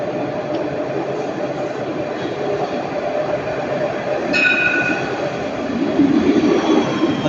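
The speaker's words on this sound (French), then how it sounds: "Il y a un tram de la ligne 2 qui arrive." A Nice line 2 tram rolls into the underground Jean-Médecin station, a steady rumble of wheels on rail filling the space, with a sharp brake squeal partway through and the noise growing louder as it arrives.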